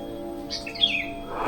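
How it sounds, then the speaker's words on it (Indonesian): Birds chirp among the trees around a quiet, leafy Javanese grave site, a few short bright calls and a sweeping whistle over a low steady hum, with a louder rustle rising at the end. "banyak suara kicauan burung gitu ya."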